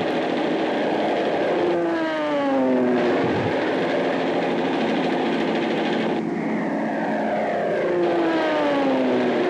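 Piston aircraft engines drone steadily through a WWII air attack in the Coral Sea, with rising and falling tonal whines of planes passing overhead amid a constant dense roar and a low thump near the middle.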